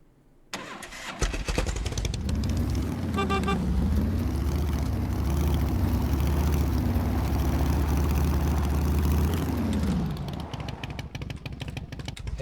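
A cruiser motorcycle in the survival game SCUM starts up and runs, a sudden start settling into a steady, loud engine drone with slight rises and falls in pitch before easing down near the end.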